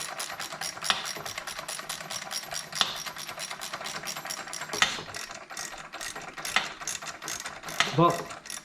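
A ratchet tightens bolts on a Yamaha YFZ450R quad, its rapid clicking fairly close and running in repeated bursts with short pauses throughout.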